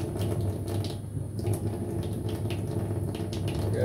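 Water running over a King 6000 whetstone while a custom 52100 steel Chinese cleaver is sharpened, a continuous close splashing trickle with small drips, no voices.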